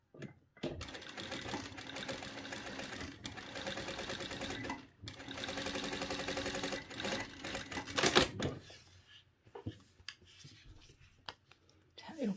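A sewing machine stitches a zipper onto a cushion, running in two long steady bursts of rapid needle chatter with a brief pause between, then stopping, followed by quieter handling sounds.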